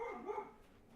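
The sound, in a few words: dog barking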